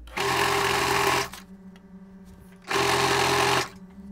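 A sewing machine runs in two steady bursts of about a second each, stitching along a folded fabric strip for a basic adjustable dress, with a quiet pause between runs and no talking.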